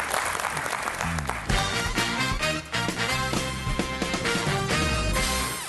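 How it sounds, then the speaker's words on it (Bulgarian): Clapping from a TV game show studio audience carries on steadily, mixed with loud music playing throughout. "Изпращаме те с аплодисменти."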